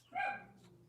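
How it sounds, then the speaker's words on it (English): A pet dog gives a single short, muffled bark in a room, faint and brief, with no talk over it. "There's my dog."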